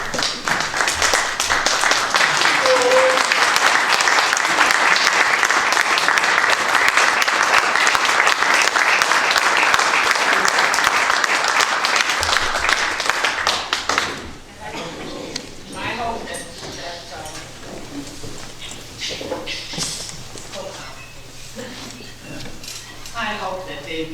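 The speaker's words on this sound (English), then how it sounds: "I just would like you all to stand and applaud." Sustained applause from a town board meeting audience on their feet, loud and dense for about fourteen seconds, then dropping away to quieter scattered sounds and talking.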